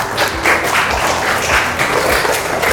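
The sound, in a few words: classroom students applauding their classmates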